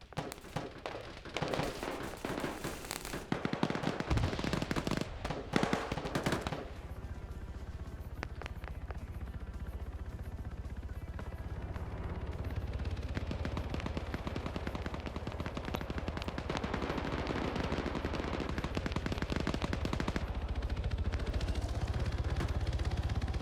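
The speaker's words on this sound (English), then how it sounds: "That's a Blue 4 light machine gun." In a large-scale multiplayer military shooter game, an L86 light machine gun fires dense bursts and rapid strings of shots, loud and crackling at first, then turning to more distant sustained gunfire under a low rumbling background.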